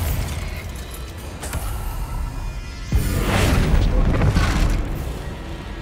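A Bombarda spell explosion in the Hogwarts Legacy video game erupts as a loud, booming blast partway through, then a sustained roaring rumble of debris and noise over a continuous dense game soundscape.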